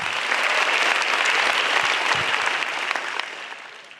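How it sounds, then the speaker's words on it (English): Loud, dense applause from the audience at a stand-up comedy grand final, a full crowd clapping continuously before the ovation tapers off and fades toward the end. "So I want you guys to give a big applause for Kompas for this amazing competition."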